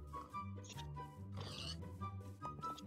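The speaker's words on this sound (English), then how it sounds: "Oh, my dog's gonna kill the pig." A Minecraft pig grunts and oinks in short, repeated game calls over a steady background of game sounds, with a burst of brighter noise midway.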